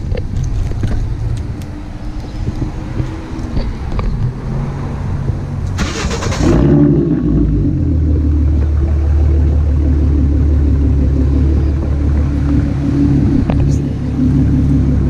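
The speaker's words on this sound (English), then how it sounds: "It's gonna be the first startup for me on the car." A car engine cranks and fires on its first startup after BBK shorty headers were fitted and the resonators removed, settling into a steady, deep, loud idle rumble, with faint talk before the start.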